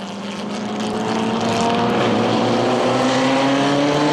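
Classic race cars lapping at the 2010 Le Mans Classic, a steady loud engine drone building over the first second or so, with no talking.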